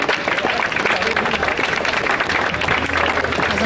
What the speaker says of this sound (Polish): Wielki, wielki brawa.